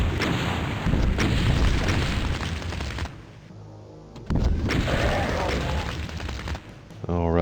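Rocket explosions and heavy weapon fire in the shooter game DOOM: loud booming blasts and rapid shots in dense bursts, a short lull, then another burst of firing, with a voice talking over parts of it.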